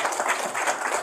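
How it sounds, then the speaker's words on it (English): An audience at a White Cane Awareness Day proclamation signing applauds steadily, a dense wash of many hands clapping at once with no pauses. "Please give a round of applause."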